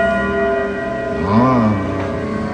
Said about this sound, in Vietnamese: Điểm chuông 30 phút rồi nè.